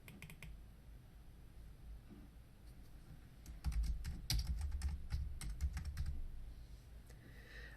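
Typing on a computer keyboard, quiet clicks at first, then a denser burst of close, crisp keystrokes for a few seconds.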